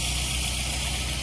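A VW Saveiro G4 with a 1.8 AP engine idles, a steady low hum with a faint even vibration, close and continuous, with no talking.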